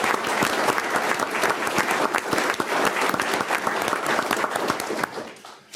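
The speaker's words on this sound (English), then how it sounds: "Can we at least give them a quick round of applause?" A short, brisk round of applause at a city council meeting, many hands clapping close and loud, then tapering off abruptly at the end.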